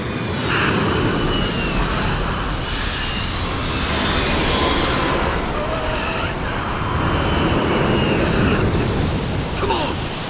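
An aircraft on final approach to land in the Da Vinci Code video game gives off a steady, broad engine roar and wind rush that stays loud and even throughout, with slight swells in intensity.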